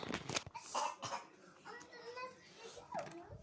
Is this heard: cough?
yes